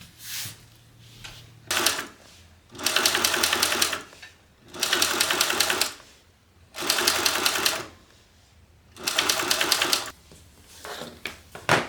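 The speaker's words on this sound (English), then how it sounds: "you can go ahead and top stitch along your top piece at 1/8 of an inch seam" A sewing machine top stitches a bag at an eighth-inch seam, running in four steady bursts of a few seconds each with short pauses between. It is loud and close, with no voices.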